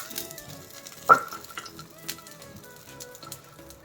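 Oil poured around an uttapam topped with coriander, green chilli and curry leaves as it cooks in a pan; a soft sizzle with a sharp clink near the start, then quiet crackling.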